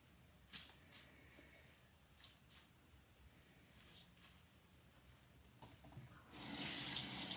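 Water from a sink tap gushes on steadily near the end, loud and close, after quieter dabbing and rinsing sounds during makeup work with a wet rag.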